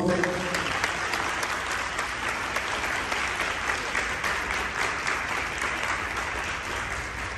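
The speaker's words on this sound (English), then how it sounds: "Please give him another round of applause." Applause from an audience at a high school aviation symposium closing ceremony, a steady wash of clapping hands lasting about seven seconds, fairly faint and even, with a few louder individual claps.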